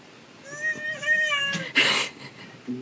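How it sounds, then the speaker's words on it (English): A house cat meows up close in a drawn-out, wavering call, followed by a brief rustling burst and a faint start of another sound, with no talk over it. "Cat noises. Sure did. Meow."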